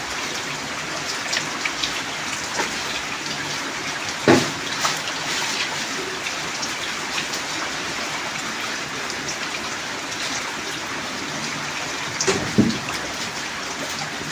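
Steady rain falls and patters on surfaces outdoors in a Punjab village during a three-day downpour, a constant dense hiss with occasional louder drips and small knocks.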